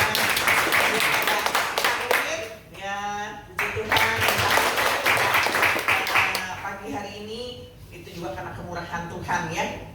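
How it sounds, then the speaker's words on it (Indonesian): A church congregation claps in welcome during an Indonesian worship service: a short burst of scattered applause that quickly gives way to a person talking with background music. "Ya, kita kasih tepuk tangan."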